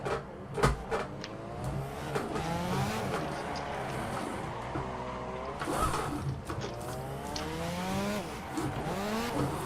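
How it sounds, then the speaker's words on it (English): Tires squeal during a car burnout in Assetto Corsa, a sustained screech with rising and falling pitch over a revving engine, loud and continuous across the whole stretch with no voices. "I'm just doing a burnout competition at this point"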